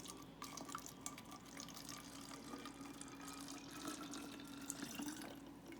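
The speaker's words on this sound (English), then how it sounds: "pour about a half a cup of water" Quiet, steady trickle of about half a cup of water pouring into a bottle, with faint gurgling and splashing throughout and no talking.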